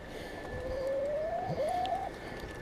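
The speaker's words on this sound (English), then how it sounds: "We got us a pesky bird in my rat trap" A bird caught in a rat trap gives a single thin, rising whistle-like call lasting over a second, heard outdoors against a steady background hiss.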